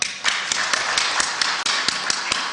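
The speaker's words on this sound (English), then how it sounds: "can you clap for him?" An audience at a wildlife corridors forum claps in a steady rhythmic unison, sharp regular beats repeating about every quarter second over a continuous bed of scattered applause, with a brief dip near the end.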